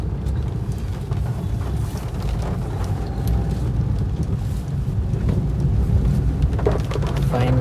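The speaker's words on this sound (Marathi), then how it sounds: "लय पाऊस आहे" Heavy, continuous rain falling in Manjari, Pune, during days of flooding, a dense, steady outdoor wash with wind buffeting the microphone throughout.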